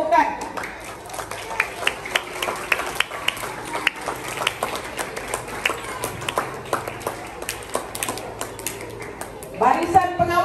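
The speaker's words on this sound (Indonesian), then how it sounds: "Kita bagi tepukan." School assembly audience claps together, a dense run of sharp hand claps lasting several seconds at moderate loudness, with a voice briefly rising near the end.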